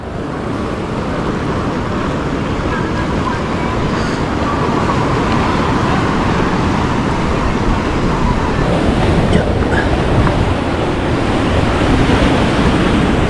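Sea waves roll and crash at Blackhead beach in New South Wales, Australia, a loud, continuous surf roar with wind buffeting the microphone throughout and no voices.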